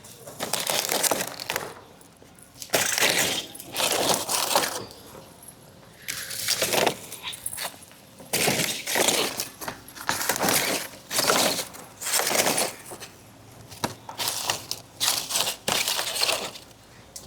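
Plastic water bottles are grabbed from a store shelf, knocking together and tumbling down in a series of loud, clattery bursts with short pauses between them.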